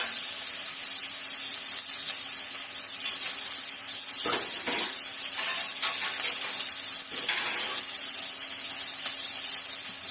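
Two large chopped onions frying in a pan with fennel seeds and curry leaves, a steady hissing sizzle with occasional stirring scrapes, close and continuous without talk.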